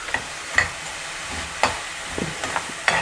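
Masala and green peas frying in oil in a pot for veg pulav, giving a steady soft sizzle broken by a few clanks and scrapes of stirring.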